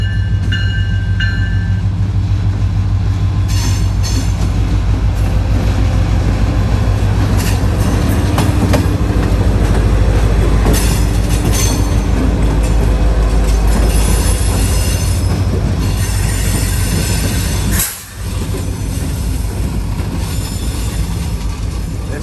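Heavy freight trains diverging over three tracks in a rail yard, a continuous loud rumble of passing cars with clickety-clack wheel beats and squealing wheels, close and unbroken, with no talk.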